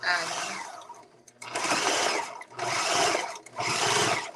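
Sewing machine stitching a seam on a custom cup dress, running in three or four close bursts of rapid needle chatter separated by short pauses, with no talking over it.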